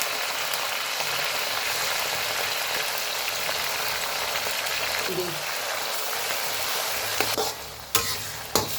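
Dried red chillies, curry leaves and ginger garlic paste fry in hot oil with a dense, continuous sizzle, ending in a few sharp clanks of a spoon or lid against the pan.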